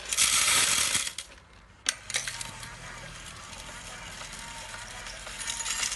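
A loud metallic rattling cascade as small screws are poured into a HITECOM FA-560 automatic screw feeder, lasting about a second, followed by a sharp clink and fainter mechanical clatter, with speech nearby.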